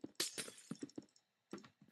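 Glass blocks shatter in the Minecraft video game with a quick series of crisp, tinkling breaks, faint and low in volume, followed by one more break after a short pause.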